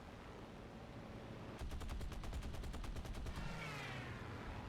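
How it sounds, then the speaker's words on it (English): A Typhoon plane in a flight video game fires a rapid string of about fifteen evenly spaced rocket shots over a low engine roar, loud and close, then the barrage stops and the engine drone carries on alone. "Missed the rocket shots."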